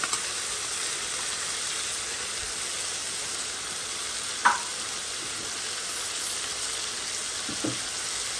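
Ginger and garlic fry in a pan for a chicken and snow pea dish, giving a steady broad sizzle with no talk over it. A utensil clinks once in the middle and scrapes briefly near the end.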